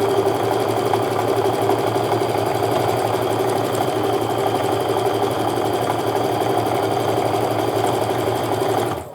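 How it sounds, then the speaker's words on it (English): A sewing machine chain piecing quilt fabric runs steadily and loudly near at hand with a continuous mechanical whir and rapid stitching rhythm, stopping abruptly at the end. "I'm going to go ahead and chain piece the rest of these"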